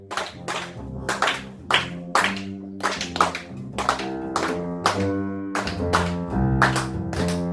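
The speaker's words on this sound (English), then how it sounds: "Now you're clapping." Hand claps keep a steady, even beat along to a Latin jazz count over a tumbao pattern on piano and bass, the crisp claps close and prominent above the sustained tones.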